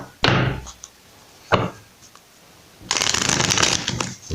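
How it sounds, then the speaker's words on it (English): A deck of tarot cards being shuffled by hand: two short riffling bursts followed by a longer, steady flutter of cards, close up with no talking. "Right, let's shuffle one more time."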